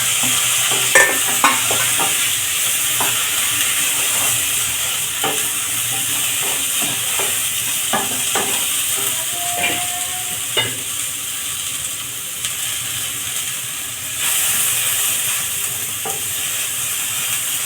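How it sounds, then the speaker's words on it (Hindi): Potatoes and green peas fry in a pan for ghugni while a spatula stirs them, giving repeated scraping clicks over a continuous close sizzle. "इसको चला के थोड़ा सा भून लेंगे"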